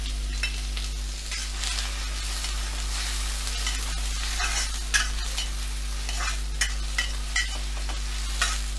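Oil sizzles steadily in a pan as onions fry after cumin seeds, with intermittent scraping and stirring sounds over a low constant hum.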